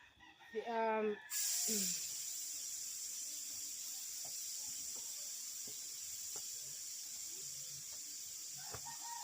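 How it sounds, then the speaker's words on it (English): A rooster crows close by at the start, then a steady, even hiss of steam escapes from a cooking pot. The hiss carries on at moderate level under faint clicks and small knocks. "so then I release over the steam."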